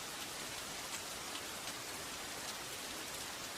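Steady rain falls in an anime battle scene, a dense even hiss that holds without a break and with no voices over it.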